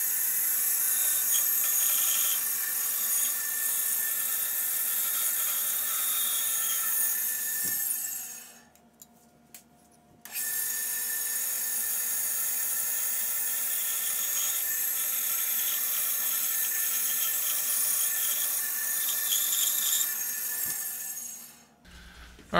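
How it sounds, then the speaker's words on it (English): A bandsaw cuts black walnut for a carved spoon holder, a steady high whine running loud and close, dropping out briefly near the middle before resuming, then stopping at the end. "once I get this cut out on the bandsaw"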